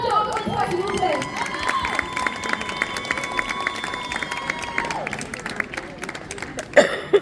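A crowd at a cosplay contest results ceremony applauds and cheers the finalists over steady background music. The clapping and crowd noise stay fairly loud, with a few shouts near the end.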